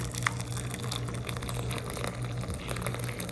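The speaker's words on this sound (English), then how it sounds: "Just pour it all the way in." Liquid being poured into a container holding cabbage gives a steady, faint trickling and gurgling flow with small splashes, no talk.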